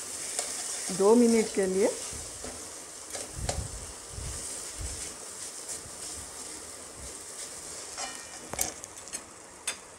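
Vegetables including carrot sizzle as they fry in a pan with stirring for an aloo paratha filling, a steady close crackle with occasional scrapes, joined by a brief burst of speech near the start.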